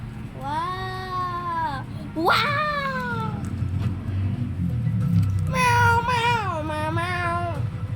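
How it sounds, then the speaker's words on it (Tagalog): A cat meows three times, with drawn-out, wavering cries and short pauses between them. The cries sound fairly close over a steady murmur of background noise. "Meow."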